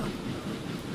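An early steam locomotive from Transport Fever 2 rolls along the rails, a brief steady rumble of running train noise at moderate level with no voices.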